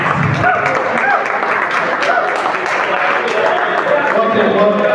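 A crowd applauds at a media conference, a busy, sustained patter of clapping from many people, mixed with murmuring voices in the room.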